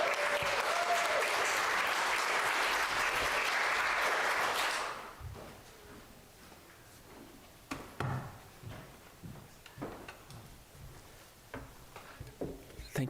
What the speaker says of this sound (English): if you can be very enthusiastic in your applause as folks come up here